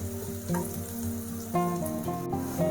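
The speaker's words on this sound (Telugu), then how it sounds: "కొంచెం ఫ్రై అవ్వాలి కొంచెం సాల్ట్ వేస్తే తొందరగా ఫ్రై అవుతుంది మగ్గుతుంది ఆనియన్" Onions frying in a pan with a soft, steady sizzle over a faint tonal hum, brief and without voices.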